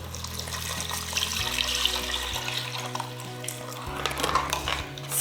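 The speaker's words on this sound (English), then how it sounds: "add in your milk" One liter of milk poured into soft, sticky cooked rice in a pot, a steady close liquid splashing and trickling that runs throughout, alone without talk.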